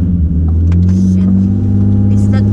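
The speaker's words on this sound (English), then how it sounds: "It's just a cold start, so it's really loud." A V6-swapped Toyota MR2 on a cold start while driving gives a loud, steady engine drone with a deep rumble that holds throughout, close and continuous.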